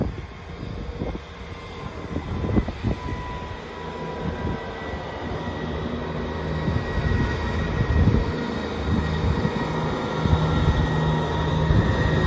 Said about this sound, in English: Now getting ready to leave off platform number 4 at Grantham.